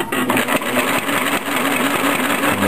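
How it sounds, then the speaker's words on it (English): A sewing machine stitches the binding on a quilt with a steady, rapid mechanical chatter and motor hum, close and loud, running continuously with slight pulses in speed. "sewing"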